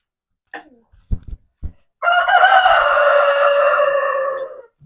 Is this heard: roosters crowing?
yes